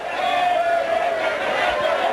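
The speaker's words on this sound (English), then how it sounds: "The most vocal crowd I've heard here at one of these games in a long time." Vocal crowd in the stands at a 1990 South Carolina high school baseball state championship game, a steady roar of cheering and shouting that holds at an even, loud level throughout.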